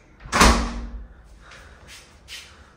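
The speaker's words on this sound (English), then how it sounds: "so the door's closed" A hotel room door at the Maybourne Riviera on the French Riviera shuts with one firm thud, followed by a few softer, fainter knocks or rattles of the latch and frame settling.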